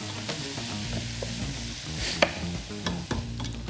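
Garlic frying in a pan for coq au vin gives a steady crackling sizzle, with a few sharper clinks of a utensil stirring near the end.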